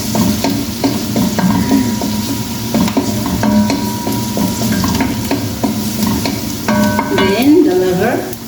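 Garlic sizzles in a hot pan while cooking pancit bihon, a steady loud frying hiss broken by repeated scraping stir strokes, with faint tonal music in the background.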